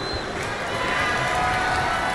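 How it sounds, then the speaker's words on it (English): Arena crowd in a WWE wrestling video game, cheering and roaring as a steady, dense wash of noise that holds loud throughout the match moment. "Taking a moment to get pumped off of this crowd's incredible energy."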